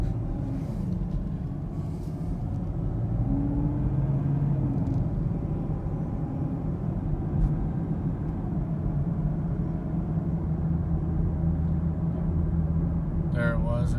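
A 2021 Camaro SS engine and exhaust rumble steadily while the car drives along a road, a loud, continuous low drone heard from inside the car with little change in pitch.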